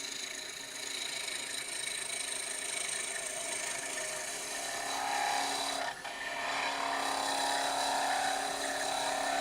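Skew chisel making a planing cut on a letter opener spinning on a wood lathe, a steady hissing, scraping rasp over the motor's hum, with a brief dip near the middle before the cut resumes.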